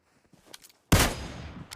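A loud burst of gunfire in a video game erupts after a second of faint, scattered sounds, a sharp blast followed by a sustained rumbling tail, close and alone.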